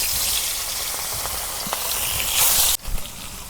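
Fish frying in hot oil in a village kitchen, for a fish and taro dish: a steady, loud, crackling sizzle swells briefly, then cuts to a quieter spatter.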